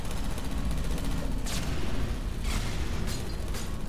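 Turrets in Portal 2 fire in rapid bursts, a steady crackling stream of shots with a few sharper volleys standing out, sustained and fairly close, with no talking.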